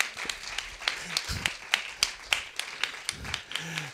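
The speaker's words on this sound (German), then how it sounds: "Großen Applaus für unsere Initiatorin" Sparse, close handclaps from an audience at a Vienna sign-language poetry slam, a dozen or so distinct claps at an uneven rhythm, fairly faint.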